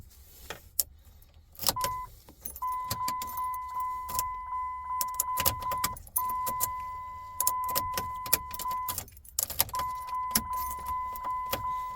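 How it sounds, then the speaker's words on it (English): Keys jangle and click into a Dodge Ram truck ignition, followed by a steady electronic chime repeating on and off in a quiet cabin. "I'm going to put the key in here"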